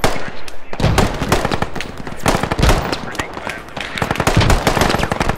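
Rapid automatic gunfire crackles in the Squad video game, with repeated bursts and sharp shots close by, loud and nearly continuous, mixed with shouted voices.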